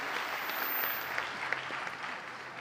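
A church congregation applauding the Lord, a steady wash of clapping from many hands that holds at an even, moderate level throughout, with no voices rising above it.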